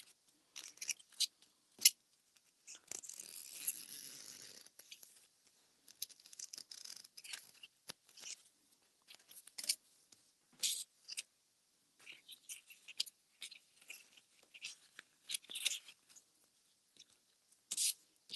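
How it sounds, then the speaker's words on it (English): Scissors snip away excess fabric and an overlay during handbag sewing, quiet close intermittent cuts and rustles scattered through near silence. "Cutting away the excess fabric and the overlay."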